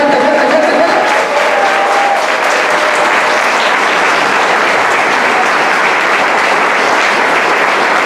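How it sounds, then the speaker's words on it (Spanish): Loud, sustained applause from a large church congregation, steady and dense clapping throughout with a few faint voices mixed in. "Den un fuerte aplauso al Señor. A ver, fuerte."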